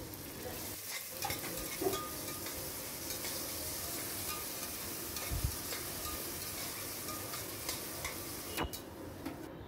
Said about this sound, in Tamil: அதையும் நல்லா வதக்கி விட்டுக்கலாம்.